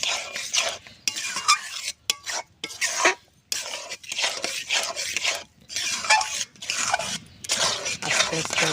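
Semolina, milk and sugar are stirred in a pot into a dough, an irregular run of close scraping and knocking strokes against the pot with short gaps between bursts.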